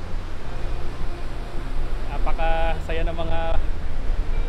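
Strong ocean waves at a Zambales beach roar as a constant low wash of surf while someone talks over them nearby.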